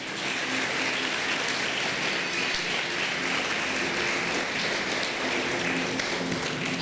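Congregation applauding in a church, a dense steady clapping crowd that stays loud and continuous throughout.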